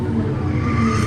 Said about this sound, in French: Des bruits de voiture.